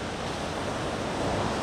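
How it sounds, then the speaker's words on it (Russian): Sea surf washing onto the shore at the Sochi embankment, a steady broadband roar of breaking waves with wind noise, continuous and fairly loud throughout. "вот оно море"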